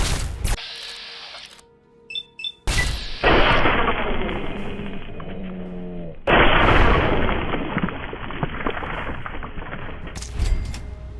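Gunfire and explosions in the video game Fallout 3 during a fight with Enclave soldiers, a jumble of mechanical clicks, sharp shots and heavy blasts, loud and close, with electronic tones and bursts of noise throughout.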